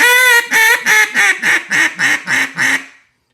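A 1964 EV Iverson ebony duck call blown in a run of about nine quick, loud, raspy quacks, starting long and tapering into shorter rhythmic notes, close and alone.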